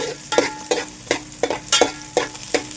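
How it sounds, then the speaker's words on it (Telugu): Onion and green chili frying in a little oil in a pan, with a soft steady sizzle broken by about seven regular scraping stirs of a spatula, close and moderately loud with no talk. "అదే ప్యాన్లో కొంచెం ఆయిల్ అయితే ఉంచాను దీంట్లోకి ఆనియన్ పచ్చిమిర్చి కూడా వేసేస్తున్నాను"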